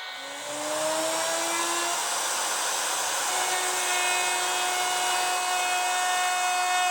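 Saw fitted with a 3/4 inch blade, the widest it takes, cutting a section off a wooden guitar body, a steady whining machine drone with sustained tonal hum, close and continuous.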